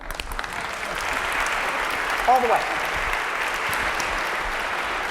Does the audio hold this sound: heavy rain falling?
no